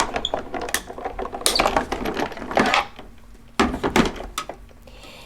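A die cutting machine runs a greeting card panel through with a C plate on top, giving mechanical ratcheting clicks and grinding bursts in several close, loud passes, alone without talk.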